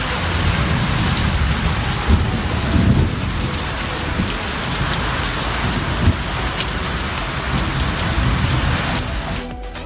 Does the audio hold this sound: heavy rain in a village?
yes